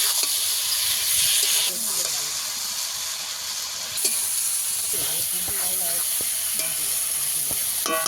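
Fried potatoes and spices being stirred and sautéed in a hot pan for a fish curry, giving a steady loud sizzle with repeated scraping strokes of a spoon throughout.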